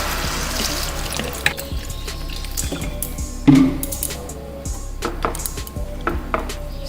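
Water poured into a cooking pan over frying spiced oil with green chillies, a hissing, splashing stream beneath small clinks and knocks of utensils, close by.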